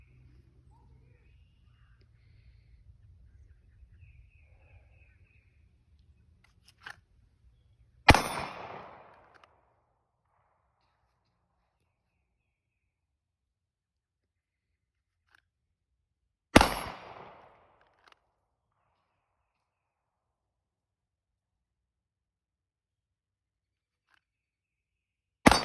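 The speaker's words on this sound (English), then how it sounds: "So we're going to shoot some steel. We're going to draw and shoot, okay?" Glock 19x pistol fired at steel targets outdoors after a draw, with two sharp, loud isolated shots several seconds apart and a third at the very end, separated by near silence.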